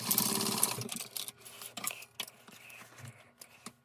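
A sewing machine stitches fabric for a custom pack, a quiet run of rapid mechanical whirring with brief stops and restarts, heard close and alone.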